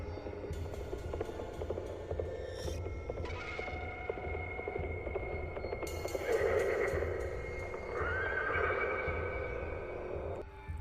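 Sustained, echoing whinnies and tonal cries rise and fall over a low rumbling bed, with faint knocking sounds, eerie and reverberant.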